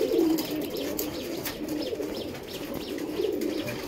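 Pigeons in large cages, some sitting on eggs and chicks, coo steadily in low repeated phrases, with several birds overlapping close by and faint chirps mixed in.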